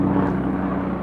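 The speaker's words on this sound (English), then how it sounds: "that is a helicopter you can hear" A helicopter passes overhead near a Formula 1 French Grand Prix, its steady low rotor drone loud and continuous with no speech.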